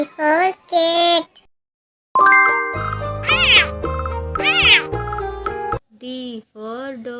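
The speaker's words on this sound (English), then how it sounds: "C for cat." A cartoon-style cat meows twice, loud and close, followed by bright chiming musical notes and then two more meows, with no talking.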